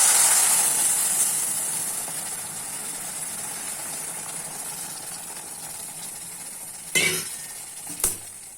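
Milk poured into roasted semolina in a hot pan gives a loud steaming hiss that slowly fades into a steady sizzle, followed by two brief sharp clatters near the end.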